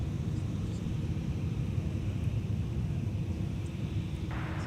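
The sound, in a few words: Sun Country Airlines Boeing 737-800 at MSP airport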